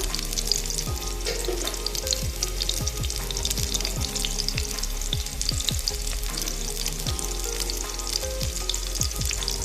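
Black cumin seeds sizzling as they fry in a pan during home cooking, a steady loud crackle and hiss with repeated stirring scrapes throughout and no voices.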